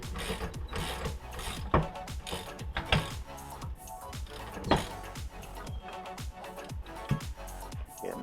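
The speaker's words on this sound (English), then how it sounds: "So then you can loosen up your ball joint press and take that washer off." A ball joint press being loosened during control arm bushing replacement makes a series of close ratcheting clicks and metallic mechanism sounds in uneven bursts, with no talk.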